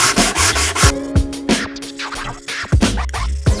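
Hand sanding along the narrow edges of a wooden dovetail box, with repeated short rubbing strokes close by, each stroke a scratchy rasp that stops and restarts in an uneven rhythm.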